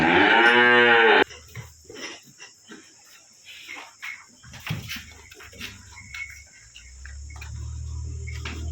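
Cows in a village cattle shed give a long, loud moo up close, followed by quieter shuffling and rustling with a steady chorus of crickets in the background.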